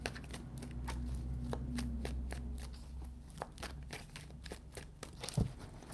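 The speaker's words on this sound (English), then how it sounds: "3 shuffles." Tarot cards are shuffled close by in a run of soft riffling slaps and clicks over a low room hum, with one sharp knock near the end.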